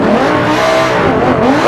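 A V10 car engine revs hard and continuously, loud and close, its pitch rising and falling as it climbs toward a high-rev scream.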